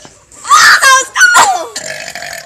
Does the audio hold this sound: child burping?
yes